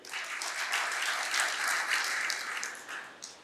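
An audience at a farmers' literary conference in Maharashtra breaks into applause for the inaugural guest. The clapping is moderately loud and sustained without voices, tapering off near the end.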